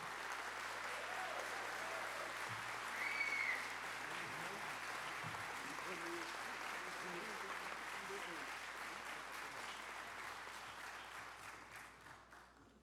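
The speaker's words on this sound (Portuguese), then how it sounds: "Uma calorosa salva de palmas" Warm audience applause rolls through a solemn session honouring religious leaders, a continuous wash of clapping with a low hum and brief murmured voices beneath, slowly fading near the end.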